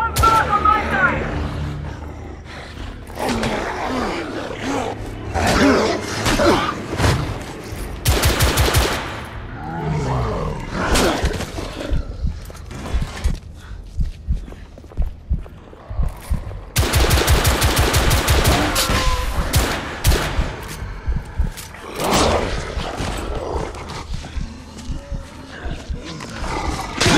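Gunfire in the Victorian-era shooter The Order: 1886, with sustained rapid bursts and single cracks mixed with loud roaring effects and voices shouting, dense and chaotic over nearly half a minute.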